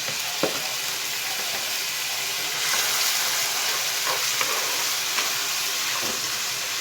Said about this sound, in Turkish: pirinç ekleyeceğim. Onu da bir güzelce kavuracağım.